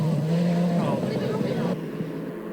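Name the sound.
rally cars racing off-road in a played video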